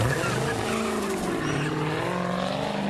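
Car driving fast along Norwalk Street with tires skidding and squealing, a loud, continuous engine roar with pitch sweeps up close, in a neighborhood setting.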